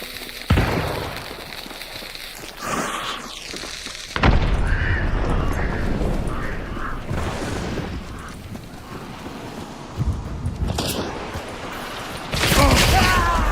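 Shotgun blasts in a video game, several loud, sharp booms scattered irregularly among softer game sounds, with a player talking in between.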